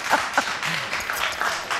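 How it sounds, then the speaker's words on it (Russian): Applause from a studio audience at a televised interview with Alla Pugacheva, a scattered patter of clapping running steadily throughout at moderate level, without speech. "да еще и аплодируют"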